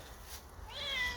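A single plaintive meow from a cat in a crate, fairly quiet and close, rising and wavering for about half a second.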